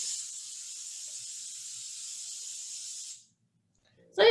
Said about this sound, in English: take the easy way out and use olive oil cooking spray.